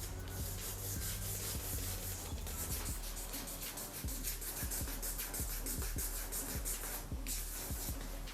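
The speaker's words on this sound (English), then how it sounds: "As you can see, it's sanding down some of the paint." Sandpaper rubbed by hand over the painted leather of an Air Jordan Retro 7 sneaker, a continuous close scratchy rasp in quick repeated strokes with no talk.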